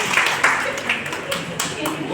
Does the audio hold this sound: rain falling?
no